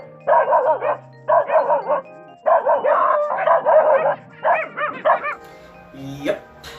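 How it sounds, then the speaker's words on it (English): A dog barks close by in repeated short bursts, six clusters of loud, sharp barks separated by brief pauses, ending in a higher whine-like yelp. "that is one of the common sounds you'll hear when you are new to a place and there's a dog present in the area"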